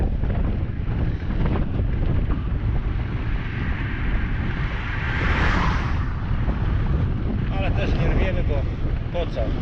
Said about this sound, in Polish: tak strasznie wieje pod wiatr